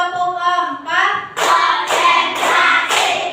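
A group of people claps hands together in a counted rhythm, four loud bursts in even succession, mixed with voices counting along.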